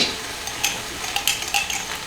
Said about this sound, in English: we want to stir and make sure that garlic and the curry paste hit the hot oil